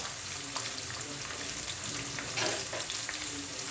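Cumin seeds fry in hot oil in a pan as a continuous close sizzle, with light scraping taps from the stirring and a brief louder crackle partway through; no speech.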